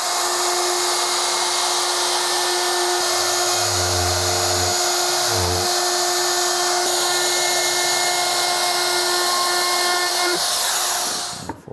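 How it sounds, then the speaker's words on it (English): A router bevels the outside edge of a hardwood countertop, giving a loud, close, steady high whine that runs without a break and shifts in tone briefly as it bites the wood, then spins down at the end. "I am going to use my router to just put a slight bevel on this on the outside."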